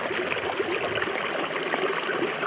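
Fast-flowing mountain stream running off a snowy Lake District fell, a steady close rush and gurgle of water with no voices.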